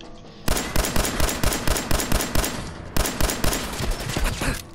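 Loud sustained gunfire in the Fallout 4 video game, with rapid, regular shots that break off briefly and then resume in a second burst.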